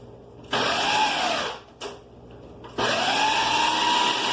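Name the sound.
blender blending quinoa pancake batter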